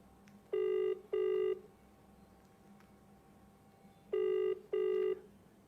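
Ringback tone of an outgoing phone call that nobody answers: two pairs of loud, buzzy double rings separated by a few seconds of quiet line hiss.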